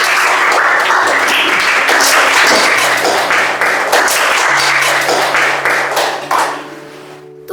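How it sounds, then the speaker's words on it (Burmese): Audience applause at a show, a loud dense crowd of clapping hands sustained for several seconds before thinning out and fading toward the end. "လက်ခုပ်တီးပေးလိုက်ပါဦး"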